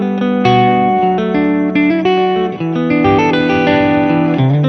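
An electric guitar through an amp with its reverb turned way up plays sustained, overlapping notes drenched in heavy reverb, each chord smearing into a long, washy tail.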